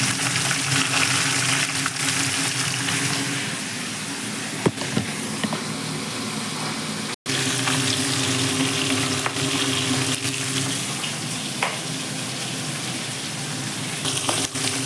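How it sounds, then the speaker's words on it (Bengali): Catla fish heads coated in salt and turmeric fry in oil with a loud, continuous crackling sizzle, broken by a few sharp spatters and a brief pause midway. "মাথাগুলো ভাজা হচ্ছে, প্রায় ভাজা হয়ে গেছে"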